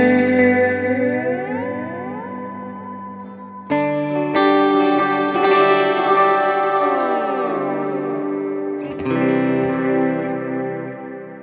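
A guitar runs through a Line 6 Helix poly pitch effect with reverb and delay, playing sustained chords that glide and bend in pitch, with new attacks near 3.7 and 9 seconds and long ringing tails, loud and with no talk.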